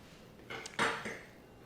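Drained pasta for spaghetti carbonara is tossed in a pan, giving a few quick metallic clinks and a scraping clatter of utensil against cookware, close but fairly quiet, without speech.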